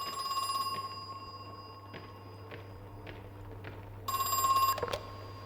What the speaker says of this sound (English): Inside this area, we actually hear a phone ringing.